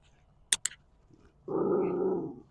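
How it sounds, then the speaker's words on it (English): A couple of sharp clicks, then a low, rumbling dog growl that holds steady for about a second, close by. "So friendly. Guard dog."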